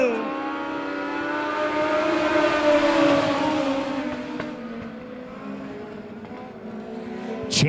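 A pack of Legends race cars roaring off at the green flag of an eight-lap heat race at Monett Motor Speedway, loud overlapping engines rising in pitch as they accelerate, then easing slightly as they pull away.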